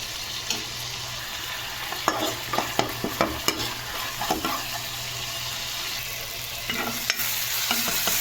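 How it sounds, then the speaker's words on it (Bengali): Spice masala for eggplant chutney is stirred and sautéed in a pan, with a steady sizzle of frying broken by scraping clicks of the spatula. "এইবারে ভালোভাবে মশলাটাকে আমি কষিয়ে নেব"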